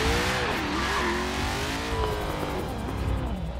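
A white Mini Cooper accelerating in the racing game Forza Horizon 3, its engine note loud and close, rising and wavering through the gears with a faint tire hiss, and no talking.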